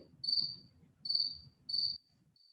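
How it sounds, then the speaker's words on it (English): A fall cricket chirping close by in three evenly spaced, high buzzing trills, each about half a second long, with a fainter start of a fourth at the end over quiet low background. "There's a fall cricket, a different set of calls."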